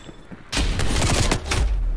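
Dense, loud gunfire in a Black Ops Cold War Gun Game match, a continuous rattling burst that breaks off briefly and then returns in close, heavy volleys.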